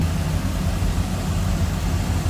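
A 1983 Chevrolet Camaro Z28 HO V8 idling after warming up, a steady low rumbling engine burble heard up close with no talking.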